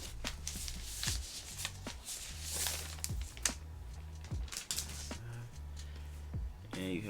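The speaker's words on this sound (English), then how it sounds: "Peel your plastic off." Protective plastic film being peeled off a 2021 M1 iPad Pro 11-inch, a close series of soft crinkling, rustling pulls and taps against a steady low hum, with no talking.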